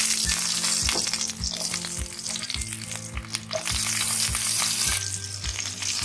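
Pointed gourd (parwal) pieces frying in hot oil with spluttered mustard and cumin seeds, a loud continuous sizzle broken by repeated scraping stirs and clinks of a utensil against the pan.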